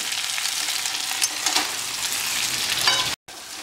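Chilli chicken with ginger garlic paste sizzles in a pan while being stirred, a steady close frying hiss with brief scraping touches and a short cut near the end.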